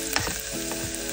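Onion in about a tablespoon of oil sizzles in a hot pan, a short, bright, continuous crackle with faint stirring clicks, close and steady with no voices.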